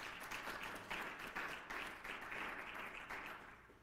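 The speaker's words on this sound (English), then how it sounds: "Give yourselves a round of applause." An audience applauds at a faculty gathering, a steady wash of many hands clapping that carries through the whole stretch, slightly fading at the end.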